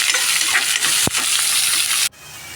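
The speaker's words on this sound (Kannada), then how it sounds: "ಈರುಳ್ಳಿ ಹಾಕಿ ಚೆನ್ನಾಗಿ ಫ್ರೈ ಆಗಲಿ." Onions fry for peas pulao in a pan, a loud, steady sizzle close by with a spoon stirring and one brief clank before the hiss suddenly drops away.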